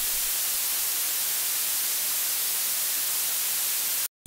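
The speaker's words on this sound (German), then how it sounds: "normalerweise klingt dieses blaue Rauschen, ich lasse es gleich mal laufen, sehr hochfrequent" Blue noise test signal, a bright, hissing broadband noise tilted toward the high end, runs steadily and loud for about four seconds, then cuts off abruptly.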